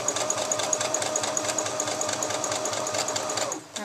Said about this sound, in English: So right here, I'm just going to stitch right there.